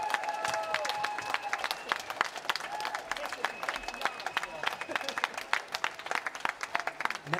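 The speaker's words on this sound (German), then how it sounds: "Applaus für euch!" An audience applauding at an open-air garden theatre show, dense clapping and cheering that thins into scattered claps toward the end, heard from a moderate distance.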